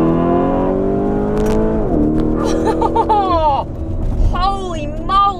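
Mansory-tuned Lamborghini Urus SUV accelerating hard, its engine rising in pitch through several upshifts with short breaks between gears, loud and close, with a person talking over it.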